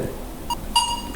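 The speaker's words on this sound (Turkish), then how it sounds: "Ara ara duyduğunuz sesler parazit sesleri" Short electronic beeps from a QUEST Air metal detector chirp twice over a low rumbling background, interference from a mineralized stone, brief and fairly clear, no voices.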